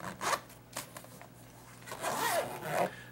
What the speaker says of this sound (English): The zippers seem pretty sturdy.